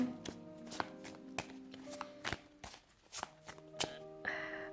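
Oracle cards being shuffled and handled, a run of crisp papery riffles and slaps in quick uneven bursts, close and fairly quiet, with a soft swish of cards slid out at the end.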